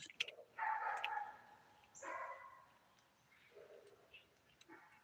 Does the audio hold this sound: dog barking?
yes